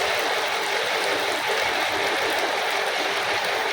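Corn and chopped onion fry in hot oil, a dense, even, loud sizzle that hisses continuously without a break.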